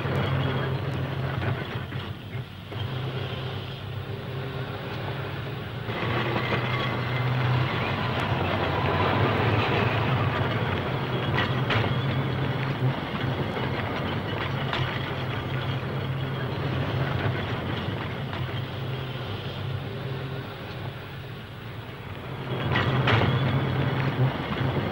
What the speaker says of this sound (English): Blackpool adds new types, whilst perpetuating the memory of the trams of yesteryear by bringing these veterans out of retirement